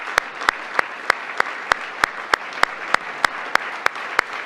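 An audience claps at a formal event with Minister François-Philippe Champagne, heard as evenly spaced, sharp claps at a steady beat of about three per second, close and alone.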